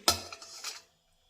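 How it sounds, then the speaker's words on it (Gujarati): Grated potato is tipped into a large metal vessel, giving a short, close clatter of metal and a spoon scraping against the pot that stops after under a second. "ફરી આપણે મોટું વાસણ લઈશું અને બટાકાના છીણને એમાં ટ્રાન્સફર કરીશું"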